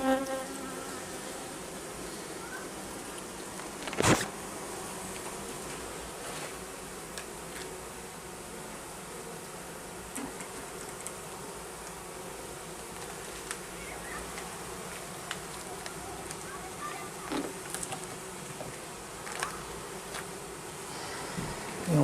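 Honey bees buzzing around a garden hive during a summer honey harvest, a steady soft hum of many insects with occasional louder passes close by.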